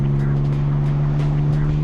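A BMW E85 Z4 3.0si straight-six with an aftermarket titanium exhaust drones steadily from inside the cabin, a strong low humming tone held throughout, with someone talking over it.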